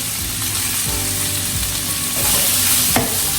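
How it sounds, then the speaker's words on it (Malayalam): Chopped ivy gourd fries in a hot pan, a loud, continuous sizzle and crackle close by, with a brief sharper clatter near the end and no talking. "ഇനി കോവയ്ക്ക ഇടാം."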